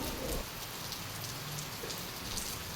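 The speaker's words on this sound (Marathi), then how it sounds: "आणि हे बघा, खूप जोरात पाऊस येतो आहे." Heavy rain pours down steadily on a surface, a dense, continuous hiss of droplets filling the whole scene with no talking.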